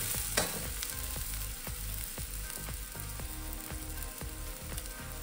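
Adai dosa frying in oil on a pan, a steady close sizzle with regular crackling pops, plus a scraping or stirring rhythm of roughly one stroke per half second, with no talking.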